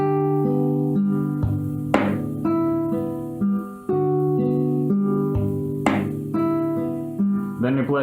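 Guitar picking out the main riff of a song slowly, clear plucked notes in a repeating phrase with ringing sustained tones, close and loud with no other sounds.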